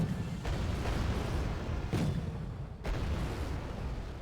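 Gunfire and artillery in the war strategy game Wargame: Red Dragon, a few deep booms and sharp blasts spaced a second or so apart over a low rumbling battlefield background, no voices.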